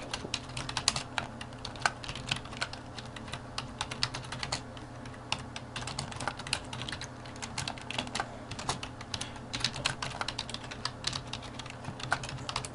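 Steady, continuous typing on a computer keyboard, close and clear, with a fast irregular rhythm of key clicks and no voices over it.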